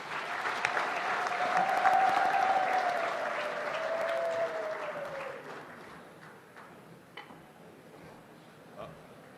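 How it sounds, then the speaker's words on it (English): A large audience at a heads-of-state summit applauds steadily, a broad wash of clapping with a sustained tone running through it, gradually thinning out to scattered claps. "may I request the audience to just give us 2 rounds of applause"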